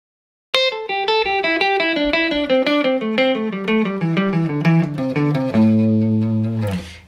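Electric guitar runs a scale sequence with steady alternate-picked single notes, a quick even stream of bright, clearly articulated tones climbing and falling, ending on a held chord, played alone without talk.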